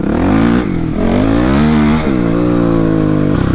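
A dirt bike engine revs loud and close on a trail, rising and falling in quick throttle blips and a sustained buzzing drone, with no voices.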